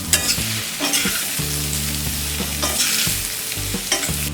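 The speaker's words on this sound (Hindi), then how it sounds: "इसमें डालेंगे ये हरा धनिया, मिक्स कर देते हैं।" Green coriander being stirred into vrat-style potato curry in a pan, giving steady scraping and soft sizzling, with spoon knocks at a close, moderate level and no talk.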